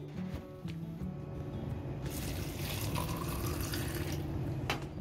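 Water poured over a dry potted scallion plant, a steady close trickle and splash of liquid running into the soil for several seconds with no talk.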